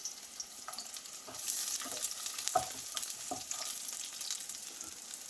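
Chopped small onions (shallots) sizzle in hot oil with mustard seeds and slit green chillies, a faint continuous crackle broken by sharper pops and a few stirring scrapes, with no voices.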